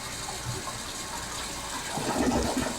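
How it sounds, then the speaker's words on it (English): A toilet flushes with a short continuous rush of water that swells toward the end, close and fairly loud, with no voices. "Did you ever wonder where it all goes when we flush the toilet?"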